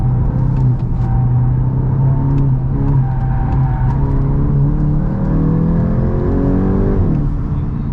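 Volkswagen Golf 8 GTI Edition 45, front-wheel drive, pulls hard under full throttle with rising engine pitch across several gear changes and a loud, close rumble, and no voices.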